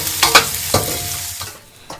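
Garlic and ginger stir-frying in oil over low heat in a wok, a steady sizzle broken by a few scraping stirs of the spatula, close and fairly loud with no voices.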